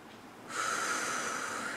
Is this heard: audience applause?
no